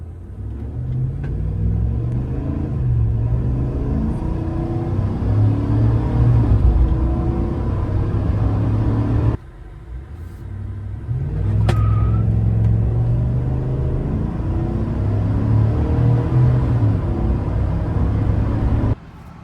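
A Chevrolet Silverado Trail Boss Z71 fitted with a bolt-on Flowmaster Super 44 exhaust accelerates on an open road, its deep exhaust rumble droning steadily and loud, with a short dip midway, likely a gear shift, before it pulls on again.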